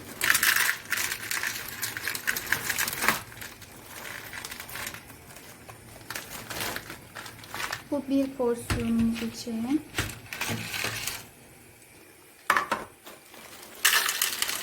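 Frozen corn kernels from an A101 supermarket freezer are poured and measured into a cup, the hard pieces clattering and rattling in bursts while someone talks over them.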